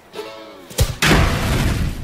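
A roman candle firework on the Fourth of July fires with a sharp pop followed by a loud, sustained crackling rush, close by after a brief quieter fizz.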